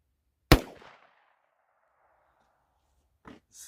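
A single sharp .45 Colt gunshot fired through a chronograph cracks loud and close, its report decaying over about half a second, followed after a pause by a brief faint clatter.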